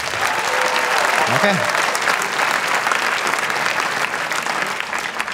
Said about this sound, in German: Einmal mal klatschen, die Berliner.